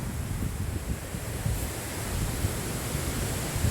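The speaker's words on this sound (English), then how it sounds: "Oh, windy." Steady wind rushing past on the Dorchester on Thames bypass, a constant broadband hiss and low rumble at moderate level with no voices.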